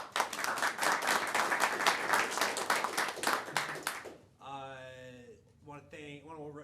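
An audience applauds a guest speaker at an evening talk on startup fundraising, with dense clapping for about four seconds that then stops abruptly. A faint voice or tone can be heard afterward.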